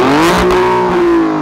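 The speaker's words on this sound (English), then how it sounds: "This is my favorite sounding V6 ever." An Alfa Romeo Stelvio Quadrifoglio SUV's V6 engine in race mode revs loudly and close, a steady rising growl with strong harmonic tone holding through the burst.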